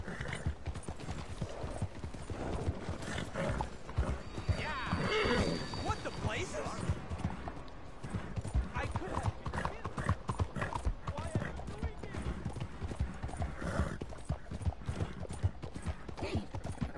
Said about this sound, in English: This fucking horse will get there, man.